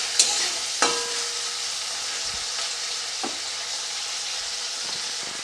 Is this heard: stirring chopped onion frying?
yes